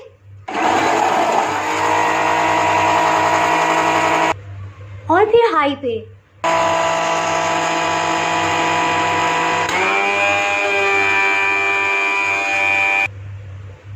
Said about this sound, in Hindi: ब्लेंडर मशीन को पहले लो स्पीड पे ऑन करेंगे